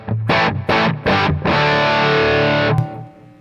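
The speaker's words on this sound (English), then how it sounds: "if I want it to sound bigger with a little more gain, I can just hit the boost without touching my tone stack" Electric guitar through an amp with the gain boost switched on, a few sharp distorted chord stabs followed by a long sustained overdriven chord that cuts off, loud and close with no talking.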